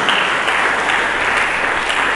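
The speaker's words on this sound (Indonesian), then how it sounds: "Berikan tepuk tangan bagi Yesus Kristus." Congregation applauding during a church sermon, a dense, even wash of many hands clapping continuously at a loud level, heard alone without speech.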